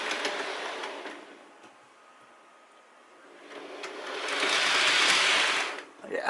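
A small analog model SNCF TGV high-speed train whirs along a track, its motor noise fading low, then building to a loud, steady rushing hum as it passes close by.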